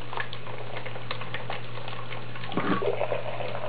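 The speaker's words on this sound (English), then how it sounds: "just fill it up with warm water." Warm tap water runs steadily from a faucet into a rabbit's water bottle, a continuous splashing pour with small patters throughout, close and moderately loud with no talking.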